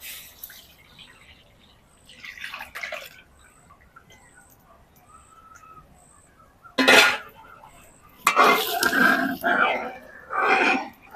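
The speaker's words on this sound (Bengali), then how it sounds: "এবার দিয়ে দিচ্ছি এক লিটার গরুর দুধ" Cow's milk, boiled down and thickened, is poured into a wok in a few short splashing bursts. The longest and loudest pour comes near the end, with quiet pauses between the pours.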